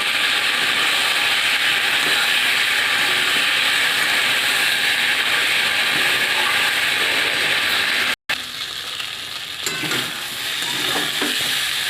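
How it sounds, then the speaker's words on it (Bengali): Spices and winter vegetables sizzle and fry steadily in a pan for a katla fish curry, with stirring scrapes toward the end after a brief cut. "এবার আমি মশলাটা এর মধ্যে দিয়ে দেবো দিয়ে মশলাটাকে ভালো করে কষিয়ে নেব"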